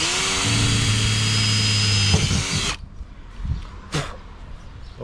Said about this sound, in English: we're gonna pre-drill this hole